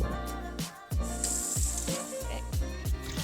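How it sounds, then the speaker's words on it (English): About a liter of water is poured into a pot of lentil soup, a close, splashing stream with bubbling and sizzling over a quiet room tone, rising and falling in short surges. "So now I'm going to add about 1 liter of water"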